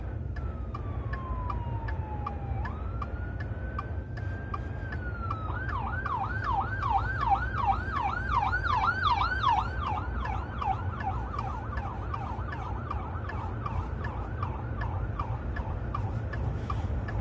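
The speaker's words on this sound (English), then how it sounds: "I had to stop for an ambulance." An ambulance siren passing on a road, first a slow wailing sweep then a rapid yelp pattern, moderately close over steady traffic and car rumble.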